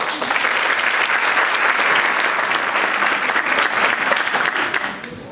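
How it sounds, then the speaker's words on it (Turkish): Steady, dense applause from a large audience at a Turkish talk on entering a city, sustained and loud throughout before easing off at the very end. "Bir alkış alabilir miyim?"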